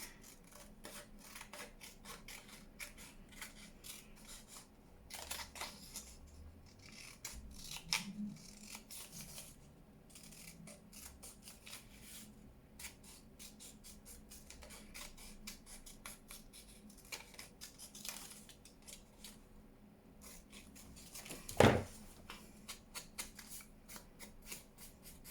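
Scissors snip through paper at close range for a junk journal project, quiet intermittent cuts and rustling handling of the paper, with a sharper clack near the end.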